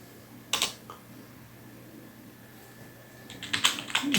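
Keys clatter on a computer keyboard as text is typed: a quick burst of taps early on, a lull, then a faster run of keystrokes near the end, close and crisp.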